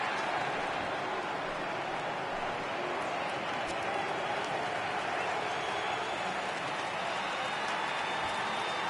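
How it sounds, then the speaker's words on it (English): A baseball video game crowd rises into a sustained roar of cheering for a full count, a steady wash of noise with a commentator talking over it. "Crowd gets up for the 3-2."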